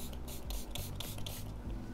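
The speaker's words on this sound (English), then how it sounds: "so I'll spray it" A fine mist sprayer wets acrylic paint in several quick pumped bursts, each a soft close hiss separated by brief pauses, with a faint low background hum.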